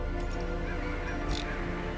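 Crows caw in the Darkest Dungeon game, a couple of harsh calls over a steady dark ambient drone, moderately faint.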